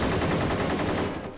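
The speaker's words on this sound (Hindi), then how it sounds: "फौजी भाइयों पर गोलियां क्यों चला रहे हो?" Rapid bursts of automatic gunfire from a Hindi action film battle scene, dense and continuous, loud and close with no gaps between shots.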